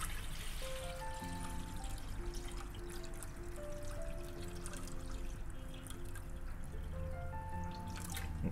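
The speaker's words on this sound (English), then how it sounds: "I want to add the water here until you can see number four." Water pours steadily into the inner pot of a Toshiba low-carb rice cooker holding white rice, a continuous close trickle and splash with a faint ringing tone as the level rises.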